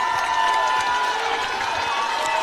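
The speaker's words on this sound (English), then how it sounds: "the home crowd here comes alive" Home crowd at a high school varsity football game roaring and cheering in the stands, a steady dense wash of many voices and whistles throughout, loud and outdoors.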